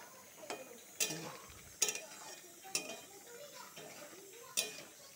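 A spoon scrapes and clinks against a pan while a Caribbean-style vegetable dish is stirred, giving several sharp metallic taps at an irregular rhythm over a faint background sizzle, quiet and close.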